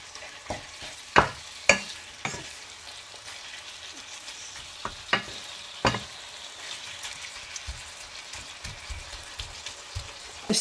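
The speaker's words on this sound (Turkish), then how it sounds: "Pişmeye başlayınca karıştırarak kavurmaya devam ediyoruz." Karnıyarık filling sautés in a pan with a soft, continuous sizzle, punctuated by repeated sharp scrapes and knocks of a spoon stirring, close and without talk.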